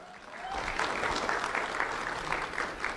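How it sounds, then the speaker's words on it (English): Audience claps for an award recipient at a sheriff's office recognition ceremony, a steady round of applause that swells after a brief quiet start and holds evenly to the end. "Let's have a round of applause for Christopher Bobbs."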